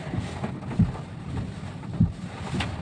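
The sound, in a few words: strong wind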